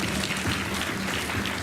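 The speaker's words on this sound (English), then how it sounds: "Gautam ke liye clap" Brief, fairly quiet group clapping from a class or gathering, a soft continuous patter lasting under two seconds with no talk over it.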